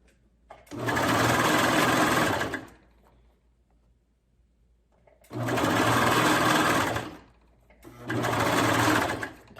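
A serger sewing machine stitches an elastic hem in three loud, close bursts of rapid whirring, separated by short quiet pauses.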